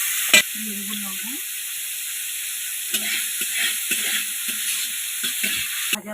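Vegetables for fried rice fry in white oil as salt is added, a steady close sizzle with a sharp knock at the start and intermittent stirring scrapes and taps.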